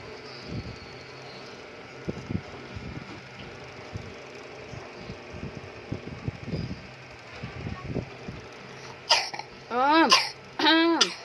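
Quiet room hum with scattered small, sharp coughs and clicks, followed near the end by a child's high, wavering voice calling out close by.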